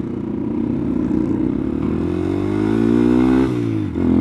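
A Honda Grom motorcycle engine revs while riding, a close, loud buzzing note that climbs steadily in pitch, drops briefly with a gear change, then picks up again.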